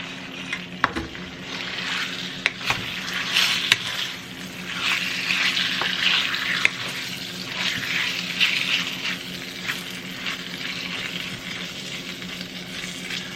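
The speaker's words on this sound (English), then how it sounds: "Now I'm going to get my meat in the pan and get it cooking." Beef sizzling in an oiled pan for a stir fry, a steady, close frying crackle with swelling hiss and a few sharp knocks of stirring, no voices.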